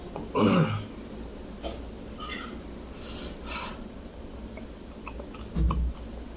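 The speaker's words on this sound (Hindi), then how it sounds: "ये चबाने का आवाज है ना, बहुत अच्छा लगता था" Close, wet chewing on food with soft mouth noises and breathing, with a louder burst near the start and another near the end, otherwise quiet and steady, with no talking.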